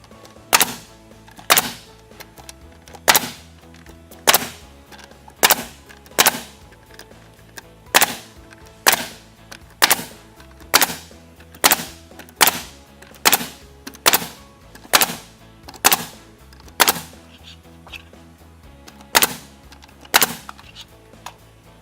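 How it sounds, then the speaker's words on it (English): Vertical board-and-batten siding being nailed, with a sharp, loud nail-gun crack about once a second, steady and regular throughout with no talking. "Then we continue our nailing."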